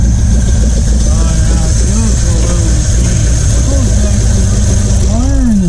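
A 1950 Ford flathead V8, started after years of sitting, runs at a loud, close, rumbling idle with a steady low throb and slight unevenness, while someone talks over it.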